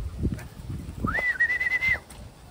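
A racing pigeon back at its loft in Tiaong, Quezon after a 517 km race lap, with low soft coos near the start and a clear, sustained high whistle-like tone through the middle against quiet background noise.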